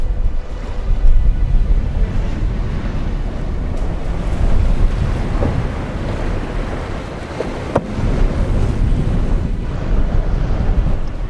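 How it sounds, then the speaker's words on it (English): Gusty wind roars steadily across the microphone on a sailboat under way, with water rushing along the hull and short louder buffets rising and falling throughout. "on a day just like today when the winds are quite gusty and highly unstable"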